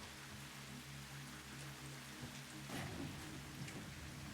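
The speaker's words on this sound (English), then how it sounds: "Keep hearing thunder and it sounds like a hog coming towards me" Steady, soft rain patters in the video game Satisfactory, with a low rolling rumble of thunder fading under the hiss. Faint and distant overall, with no talking.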